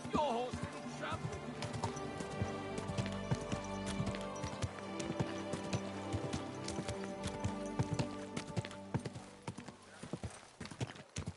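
Horse hooves clip-clop in a quick rhythm in Death Stranding, close but quiet beneath layered music, with a faint whinny and some voices.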